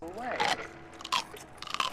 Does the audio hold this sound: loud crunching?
yes